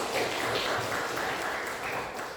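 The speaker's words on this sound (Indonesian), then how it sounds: "Bagus, tepuk tangan untuk jadi Om." Students in a classroom clapping for a classmate, a brief patter of applause at moderate volume that fades slightly toward the end.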